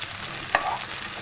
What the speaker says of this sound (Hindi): यहाँ मैंने कबाब को तेज़ आंच पे फ्राई करके और कलर बस इसको हमें देना है।